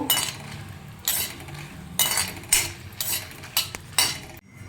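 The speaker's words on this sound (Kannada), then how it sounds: "ಒಂದು 10ರಿಂದ 12 ಒಣಮೆಣಸಿನ್ಕಾಯಿ ತೊಗೊಂಡಿದ್ದೀನಿ. ಅದನ್ನು ಫ್ರೈ ಮಾಡ್ಕೋತೀನಿ." Dried red chillies, ten to twelve of them, being fried and stirred in a pan: repeated scraping and clinking strokes of a spoon against metal, roughly one per second, close and distinct over a faint background.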